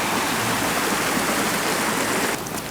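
A river rushes steadily in an icy Peak District landscape, a dense, continuous close roar of flowing water with no voices.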